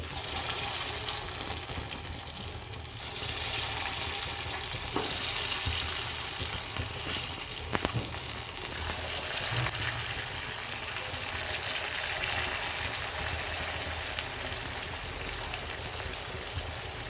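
Poha and potato balls fry in hot oil in an appe pan over a gas flame, giving a steady, even hiss and crackle that continues without a break for the whole stretch.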